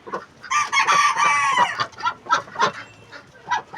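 Chickens and other poultry cluck and crow nearby in a backyard flock, a loud burst of overlapping calls giving way to repeated short clucks.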